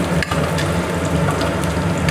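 Cashews and raisins fry lightly in a pan, giving a dense, even sizzle at close range with a few small pops and stirring clicks.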